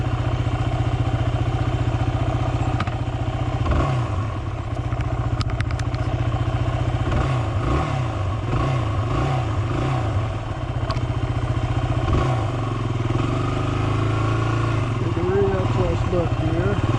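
A Yamaha WR motorcycle rumbles steadily throughout a long ride, the close engine drone rising and falling with throttle changes, with rattles and wind buffeting on top.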